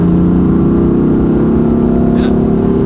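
A BMW M4 engine in Sport Plus mode with the turbo kept spooled, a loud, steady droning rev heard from inside the car, holding constant across the clip.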